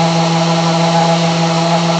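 Steady, loud whine of a power sander running continuously on wood, with a constant buzzing hum and no pauses or voices.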